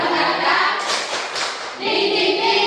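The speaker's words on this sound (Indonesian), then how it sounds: "Tepuk semangat." A group does a rhythmic spirit clap, a loud, close burst of hand clapping in the middle set between stretches of bright crowd noise.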